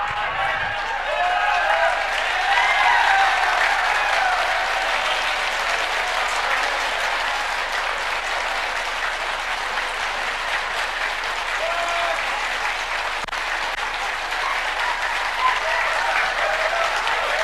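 An audience at a business NLP coaching seminar gives sustained, loud applause that holds steady for well over fifteen seconds, a thick wash of many hands clapping together with faint crowd noise mixed in.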